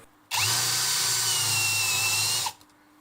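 An IMAX Brushless 20V cordless drill bores into very hard wood with a steady, loud, high-pitched whine for about two seconds, starting and stopping abruptly, with no talking over it.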